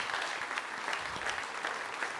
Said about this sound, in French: applaudissements pour Guy Waits